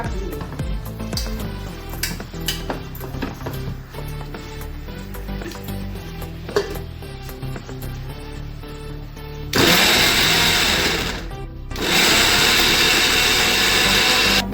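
A kitchen mixer grinder coarsely grinding raw green mango with lentils whirs loudly and steadily for several seconds, its motor pitch shifting when the load changes, with a brief drop before it surges again.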